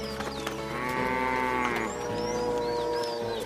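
Cow on a farm gives a long, loud, drawn-out moo with a steady tonal bellow, close up and alone against faint outdoor background.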